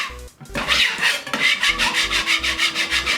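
A patching trowel scrapes spackle across a wall in repeated rasping strokes, close and steady, each pass a gritty rub in a quick even rhythm.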